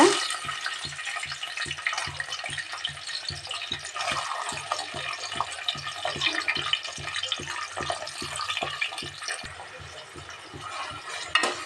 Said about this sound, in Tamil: இப்போ வந்து நம்ம கோவைக்காயை வந்து நம்ம எண்ணெயில் ஃப்ரை பண்ணி எடுத்துக்கலாங்க